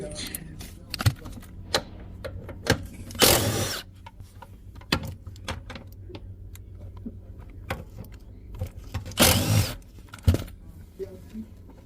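A 13 mm ratchet loosens the seat bolts on a 2006 Ford Mustang GT convertible, sparse clicking bursts and metallic clinks up close, mixed with rustling and someone talking.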